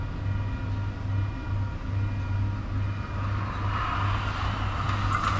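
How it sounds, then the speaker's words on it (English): A train passes at a steady distance, giving a continuous low rumble and hum with a rising hiss of wheels on rails near the end, with no talking. "Get distracted by the train."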